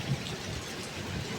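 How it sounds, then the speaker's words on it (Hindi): Steady heavy rain falls outdoors in a continuous broadband hiss, loud and even throughout with no voices. "अच्छा हुआ बारिश हो गई"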